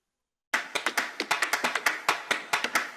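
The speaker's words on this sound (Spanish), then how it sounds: "Un aplauso para Lalo, un aplauso." A small group claps in applause for Lalo on an ESPN sports program, about a dozen sharp, close hand claps in an uneven rhythm that start abruptly after silence.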